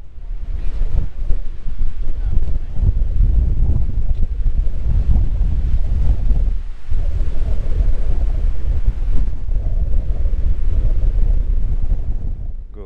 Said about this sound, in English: Of course, the wind's blowing. And I mean hard.